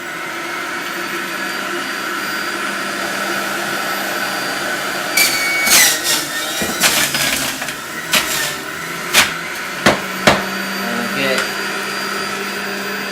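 An electric juicer grinds organic apples with a loud, steady whir, and from midway it breaks into a series of sharp surges and crunching bursts as fruit is pushed through.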